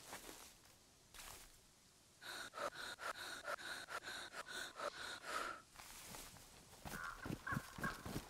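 A DayZ character breathing hard in short, rhythmic gasping pants, one after another in a steady run of a dozen or so, with a softer breath earlier and a few more near the end, with no talking.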